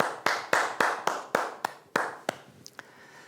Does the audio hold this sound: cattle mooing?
no